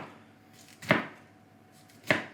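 Two crisp knife chops cutting through jalapenos on a board, spaced about a second apart, sharp and close against a quiet background.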